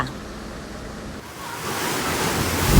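Atlantic Ocean surf surging at Thunder Hole in Acadia National Park, Maine: broad, rushing wave wash with wind noise, building louder toward the end as a swell crashes in close.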